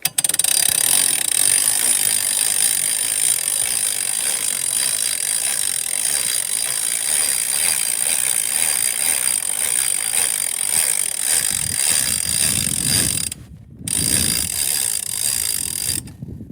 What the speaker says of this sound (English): So, crank it on there and just start cranking her up.